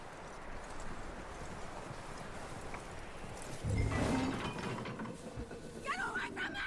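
A horse's hooves clop steadily on the ground in Red Dead Redemption 2, a rhythmic mid-distance plodding under a soft outdoor ambience, with a brief voice or game sound rising near the end.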